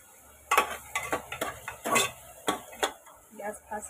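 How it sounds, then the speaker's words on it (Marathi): A spoon scrapes and clinks around a pan as turmeric is stirred into hot oil on a gas stove for Marathi-style khichdi, giving a string of close, irregular metallic taps and scrapes with short pauses between them. "आता मी सर्व हलवते। आता मी ह्याच्यात 1 चम्मच हळद टाकते।"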